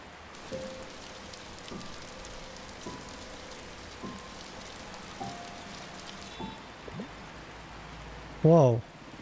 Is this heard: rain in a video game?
yes